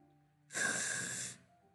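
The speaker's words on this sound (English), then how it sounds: "A sharp inhale like someone's sucking the air out of their teeth." A sharp inhale through clenched teeth in the game Doki Doki Literature Club, one hissy breath of about a second rising out of a quiet room and cutting off abruptly, with no speech.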